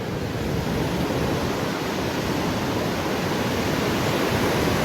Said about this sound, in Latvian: Vai paši viļņi.